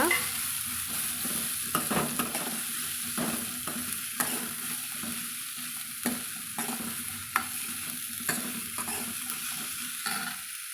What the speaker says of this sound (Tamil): இப்போது நம்ம இந்த வெட்டி வச்சுருக்கிற பூசணிக்காய் போட்டு வதக்கலாங்க